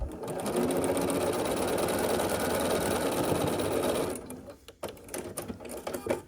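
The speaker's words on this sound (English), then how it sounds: "I'm going to take this over, sew this here with a 1/4 inch seam allowance" A sewing machine runs a quarter-inch seam on a quilt block. Its close, fast, continuous whir lasts about four seconds, then stops, and scattered handling clicks and rustles follow.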